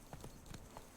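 Hooves of the horse Roach in the Witcher 3 video game, a quick faint clip-clop of several galloping hoofbeats in brief succession.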